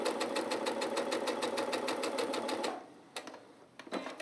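A sewing machine stitching a seam on a patchwork block runs in a fast, steady mechanical rhythm for nearly three seconds, then stops, leaving a few soft clicks and handling noises.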